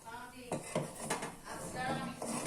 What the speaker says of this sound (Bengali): দই দিলাম কিছুটা, এবার আমি নাড়বো।